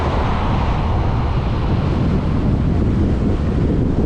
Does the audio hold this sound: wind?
yes